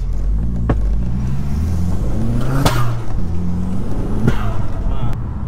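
Turbocharged 1.8T engine in an Audi S3 replica accelerating hard, heard from inside the cabin with rising revs through several gear changes and sharp shift pops, while people chatter and laugh over it.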